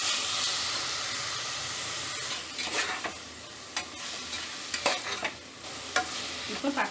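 Chopped tomatoes frying in a pan with ginger-garlic paste for chicken pulao, a close, steady sizzle broken by repeated scraping strokes of a spoon stirring the mixture.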